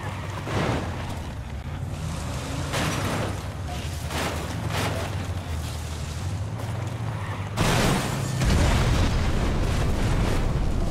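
A heavy explosion in the Crysis video game, a sustained rumbling roar with a sharp louder boom near the end, loud and alone with no talk.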